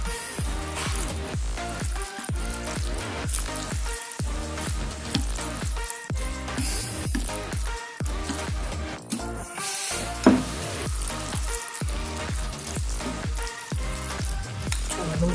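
Jjajang noodles are stirred and tossed with black bean sauce, a continuous run of wet, sticky squelching and soft clicking of utensils close up, with no talking.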